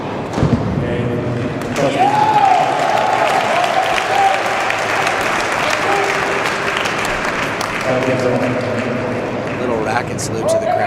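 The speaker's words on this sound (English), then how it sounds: "the crowd as they're getting louder and louder" Crowd at a tennis challenger tournament applauds and cheers in a dense, steady clapping roar that keeps building in volume, with a commentator talking over it and a few thumps in between.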